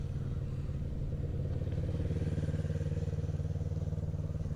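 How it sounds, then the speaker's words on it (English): Kawasaki Ninja 650 motorcycle riding in first gear around a tight circle, its engine holding a steady rhythmic drone that climbs slightly in pitch as it winds up, loud and continuous. "on the Ninja 650, first gear starts winding up a little bit"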